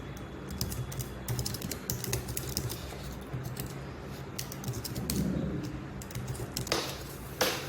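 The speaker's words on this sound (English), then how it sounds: "whatever I'm typing right now, entirely from the docs" Typing on a computer keyboard while coding produces rapid, irregular clicks and key taps close by, with occasional louder strokes and brief pauses.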